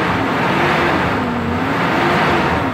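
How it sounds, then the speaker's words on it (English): A 1998 Toyota T100 pickup engine idling, a steady smooth hum and rumble heard close from inside the cab, loud and unbroken with no talk. "Bet you hear the engine."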